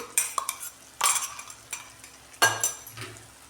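A wet coconut, garlic and coriander paste stirred with fried spices in a pan for a brinjal curry, several distinct scraping strokes of a spoon against metal with a faint sizzle between them, close by and without speech.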